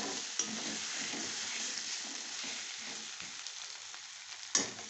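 Potatoes for hariyali aloo dum fry and sizzle steadily in oil with frequent stirring, a continuous close crackle broken by soft scraping strokes and a sharper utensil knock near the end.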